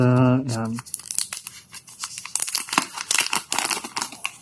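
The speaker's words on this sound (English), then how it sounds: "I think it's a plastic that we can rip apart" Plastic wrap being ripped and crinkled off a ZTE Nubia Z50S Pro phone, a burst of sharp tearing and crackling bursts close to the microphone after a man's brief remark.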